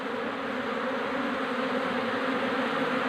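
A bee colony returning to its wooden hive box after nearly escaping, a loud, close, continuous buzzing drone of many wings, steady throughout with no talk.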